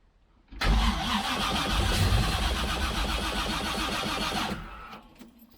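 A rebuilt car engine starts up, cranking abruptly into a loud, rough, pulsing run close by. It runs for about four seconds, then dies away.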